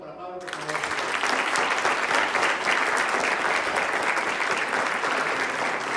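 An audience applauds a speaker named Pablo at a talk, the clapping starting abruptly and holding as a loud, dense, steady roar of many hands until the end.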